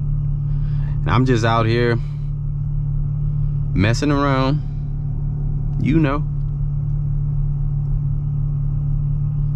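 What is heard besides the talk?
road traffic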